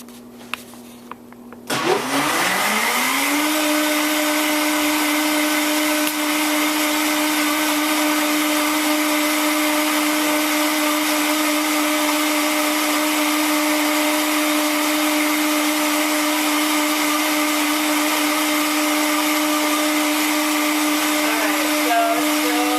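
A blender whirs steadily as it blends coconut milk, starting up after a brief moment and running loud and constant with a strong motor hum, no voices over it.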